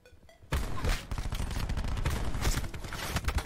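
Loud, rapid automatic gunfire in a shooter game starting abruptly after a quiet moment, continuing as a dense, uneven barrage with no talking.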